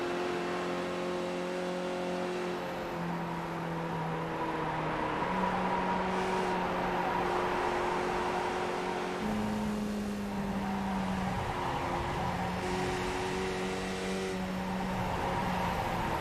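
CanAm race cars lap Canadian Tire Motorsport Park in a sim racing video game, several engine tones rising and falling as the drivers shift gears, fairly quiet and continuous.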